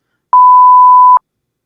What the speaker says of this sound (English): I'll bleep this out.